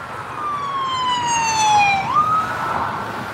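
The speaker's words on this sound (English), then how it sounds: "police and ambulance keep running" A police car or ambulance siren wails on a city street in the middle of the day, its tone sliding down, jumping, and fading as the vehicle passes fairly close, with traffic rumbling underneath and no talk.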